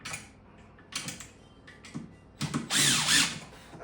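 A power drill driving screws during a kitchen demolition, heard as short intermittent whirring bursts with one longer, louder run near the end, close by.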